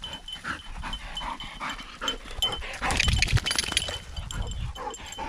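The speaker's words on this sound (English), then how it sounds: "You goofy dog." A dog out grouse scouting near a truck-bed camp pants and snuffles close by, with a louder burst of movement and panting midway, no clear barking.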